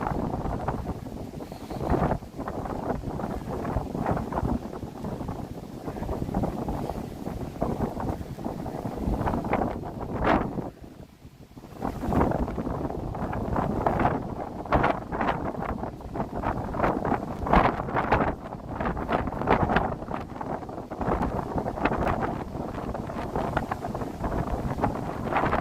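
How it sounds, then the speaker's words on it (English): Outdoor wind buffets the microphone on a Chicago street on a November morning, a continuous low rumbling roar that dips briefly, with no talking. "the wind will die down"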